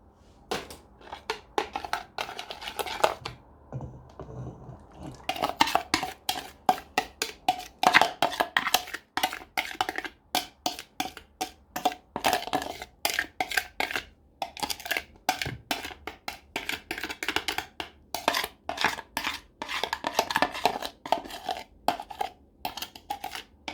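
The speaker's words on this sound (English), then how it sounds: "Add all previous ingredients with eggs and sugar to the flour." Eggs, sugar and other ingredients being added to flour in a bowl for a sweet poppy seed roll with raisins, with dense clinking, scraping and tapping of utensils against the bowl, close and irregular, and no speech.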